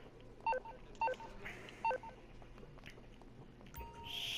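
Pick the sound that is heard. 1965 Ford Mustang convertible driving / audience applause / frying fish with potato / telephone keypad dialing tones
telephone keypad dialing tones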